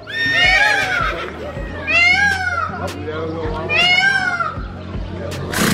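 A pony at Pairi Daiza zoo in Belgium whinnies in repeated rising-and-falling calls, fairly loud and close, with people talking nearby.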